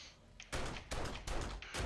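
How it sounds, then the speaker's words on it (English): Rapid semi-automatic pistol shots ring out in 7 Days to Die during a blood moon zombie horde. Four bursts of gunfire come in quick succession, fairly quiet and evenly spaced. "I'm going to switch back to my semi-automatic pistol"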